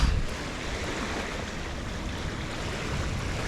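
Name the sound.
ocean waves on the shore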